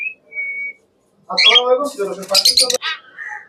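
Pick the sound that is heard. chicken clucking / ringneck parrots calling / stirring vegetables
ringneck parrots calling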